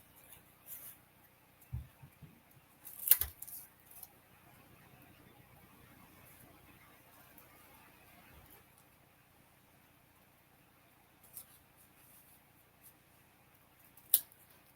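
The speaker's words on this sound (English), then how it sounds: "if you don't turn your scissors, but you turn your paper, you can cut more smoothly" Scissors snip through paper in a few faint, scattered crisp clicks and crunches. The paper is turned while the blades stay steady, and the quiet room around it has long pauses.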